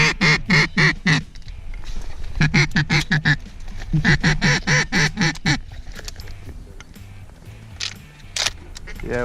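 Ducks quack in repeated rhythmic bursts during a duck hunt, loud and close, with brief pauses between runs of calls and people talking quietly in the background.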